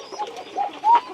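Pigeons cooing in a backyard pigeon farm with birds kept in and under cages, soft close coos in short rising phrases over about a second, with no talk.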